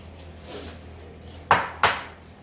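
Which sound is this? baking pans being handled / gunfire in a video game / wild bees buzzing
baking pans being handled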